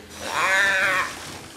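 Ghost cat boss in the Luigi's Mansion 3 video game lets out one drawn-out, snarling meow that swells and fades over about a second, close and without talk.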